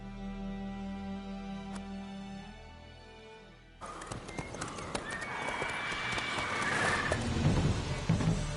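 Roach the horse in The Witcher 3 video game: quiet background music gives way to rapid galloping hoofbeats and a neigh, growing louder amid a busy mix of game sounds.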